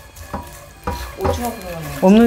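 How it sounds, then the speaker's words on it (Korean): Dried anchovies are stir-fried in a frying pan, giving scraping stirs and clatters of a utensil on the pan with light sizzle, ending in a louder burst of scraping. "이렇게 볶다 보면 멸치에서 비린 맛이 날아가면서"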